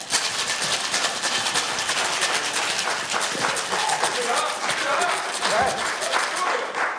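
Ice rattles in a cocktail shaker during a live Taste of Iceland drink demo, a fast steady rhythmic clatter running throughout, mixed with crowd clapping and some talk.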